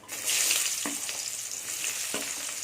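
Shallots and dried chillies fry in hot tempering oil, a bright, close sizzle with a couple of soft stirring scrapes, and nobody speaking.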